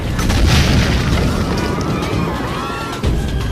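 Heavy Turkish cannon fire bombards the walls of Constantinople from a battery of 69 guns, with a deep booming blast and rumbling echoes that roll on through the clip, followed by a second loud thud near the end.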